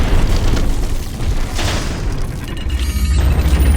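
An enemy vessel exploding in the Treasure Planet: Battle at Procyon video game, a loud rumbling boom with dense low crackling debris that keeps roaring through the whole stretch.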